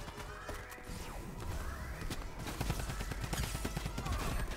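Drum gun in the Fortnite video game firing in dense, continuous rapid bursts amid crashes and other in-game gunfire, loud and steady throughout.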